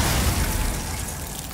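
An icy spell burst from the Glacius charm in Hogwarts Legacy, a dense crackling, shattering wash that holds steady and loud for its whole short length with no pause.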